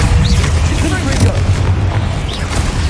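A Confringo fire spell bursts in Hogwarts Legacy on PS5, a loud, deep rumbling boom that fills the whole stretch with dense low roar.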